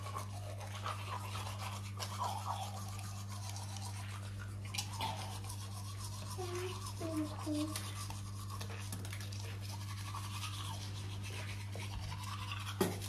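A toothbrush scrubbing teeth in a home bathroom, a close, continuous scratchy brushing over a steady low hum, with brief faint voices in the background.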